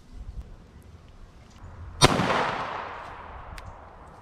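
A single pistol shot of Winchester +P ammunition fired at a 100-yard target, a sharp crack followed by a long rolling echo that fades over two seconds in an open outdoor range, with nothing else in the clip.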